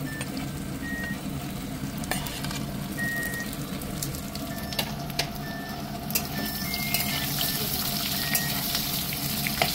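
Potatoes sizzle and crackle in a hot pan, a continuous close frying hiss with scattered sharp pops and clicks of stirring throughout.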